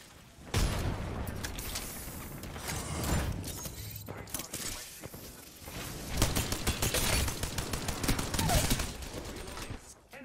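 Gunfire in Apex Legends during a squad fight, loud bursts of automatic shots and impacts layered with game effects, recurring in clusters throughout, with voices talking over the action.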